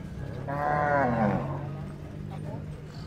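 Cattle at a livestock stockyard in Bacong, Batangas give one long, loud moo, with faint background noise and distant voices from the yard around it.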